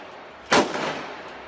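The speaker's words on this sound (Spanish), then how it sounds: "Se produce un tiroteo." A single sharp gunshot cracks out loud and close during a street shootout involving an off-duty Civil Guard officer with a pistol, followed by a decaying echo and outdoor ambience.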